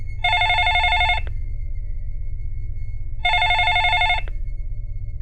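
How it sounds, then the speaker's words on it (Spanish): Telephone bell ringing in two long, bright trilling bursts separated by a pause, loud and close over a low steady background hum. "esta tranquilidad se vea cambiada de un momento a otro por el sonido del teléfono"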